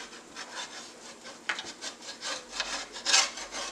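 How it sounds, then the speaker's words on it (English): Stuck-on seasoning being scraped off a cooking pan, a series of short rough rasping strokes at close range, irregular in rhythm and fairly quiet, with no talk. "Just scrape off some of this seasoning that was stuck on here"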